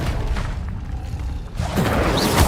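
A fire spell cast in the Hogwarts Legacy video game, a booming burst that swells into a crackling, roaring whoosh about halfway through and holds loud to the end, with no talking.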